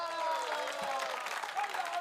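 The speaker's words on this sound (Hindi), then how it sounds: "एक बार मिलके ताली बजा दो" Steady audience applause, a dense crackle of many hands clapping throughout, fairly loud and continuous with a faint murmur of voices underneath.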